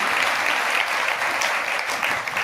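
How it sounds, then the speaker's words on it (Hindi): Steady applause from a church congregation clapping together throughout, fairly loud and continuous with no voices over it. "एक बार ताली बजा देंगे प्रभु के लिए।"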